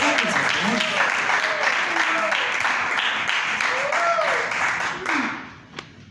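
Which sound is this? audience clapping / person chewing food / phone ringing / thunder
audience clapping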